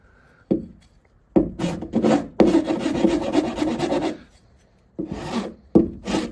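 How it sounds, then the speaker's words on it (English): A sharp hand file rasps across wood, shaving down high spots on a teardrop camper shell, in several close bursts of scraping strokes separated by short pauses. "it shaves down the high spots really well"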